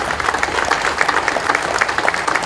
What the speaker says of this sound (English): Let's have another round of applause for our parade.